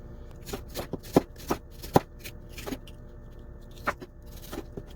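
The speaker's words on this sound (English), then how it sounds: "And now let's continue cutting." A knife cuts pork on a cutting board with a series of faint, irregular chopping taps and short scraping strokes, close by and fairly quiet.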